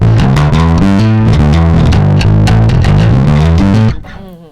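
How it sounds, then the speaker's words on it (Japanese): Bass guitar played through a Zoom MS-60B+ multi-effects pedal on its Exotic BB preamp model, a loud, gritty, overdriven tone with a rapid run of plucked notes that rings out and decays at the end. "これはエキゾチック BB プリアンプのモデリングだそうです"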